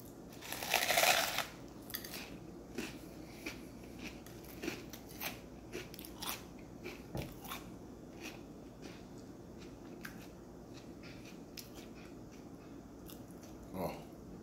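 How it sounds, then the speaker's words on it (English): Fruit Loops cereal eaten with pepper, with one loud crunchy bite near the start followed by softer, irregular chewing and crunching close to the mouth. "Eating the pepper with the Fruit Loops."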